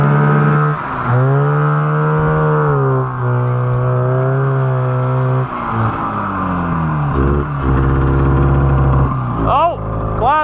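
A cheap old snowmobile engine, out on a back-country ride in snow, runs with a steady droning tone that dips and rises a few times before cutting out, with a brief voice near the end.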